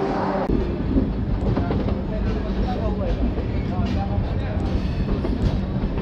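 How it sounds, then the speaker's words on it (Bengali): The Dhauli Superfast Express, running Puri to Shalimar, departs Bhubaneswar with a steady, close rumble and scattered wheel clicks from inside the carriage, as indistinct voices murmur beneath the noise. "পাঁচ মিনিট দাঁড়ানোর পর ভুবনেশ্বর থেকেও ট্রেন ছেড়ে দিয়েছে।"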